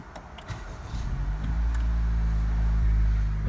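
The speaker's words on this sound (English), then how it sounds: "I'm just gonna start the car" A 2018 Honda CR-V engine cranks and catches after about a second, then settles into a steady, smooth idle up close.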